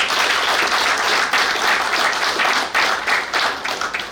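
Sustained applause from a large audience at a naval warfare course graduation ceremony at a naval war college, dense steady clapping filling the whole stretch without a break.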